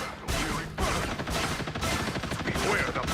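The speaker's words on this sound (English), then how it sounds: "Beware the Punisher turret!" Rapid automatic gunfire from the Punisher turret in the video game Marvel Rivals, loud dense bursts layered with impacts and crashes and game voice lines in the background.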